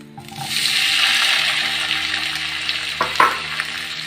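Tomatoes hit hot oil in a pan for coriander tomato chutney, bursting into a loud, close sizzle that swells then settles, with a couple of utensil clanks near the end.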